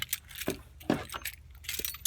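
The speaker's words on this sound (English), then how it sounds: "Oh, I hang my keys over here." A bunch of keys jangles and clinks in short bursts, close up, with a few metallic rattles and no talking.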